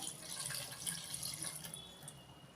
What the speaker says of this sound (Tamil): தண்ணி தேவையான அளவு ஊற்றிக்கலாம்